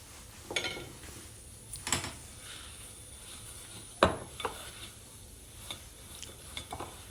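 A spoon stirs sugar syrup into sesame seeds for laddoos, making soft, scattered scraping and clinking sounds at close range with one sharper knock midway, in an otherwise quiet room.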